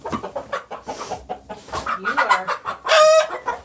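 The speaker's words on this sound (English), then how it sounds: "This is a beautiful rooster." An Easter Egger rooster gives low throaty clucks and chortles close by while a person speaks softly, ending in a loud raspy squawk.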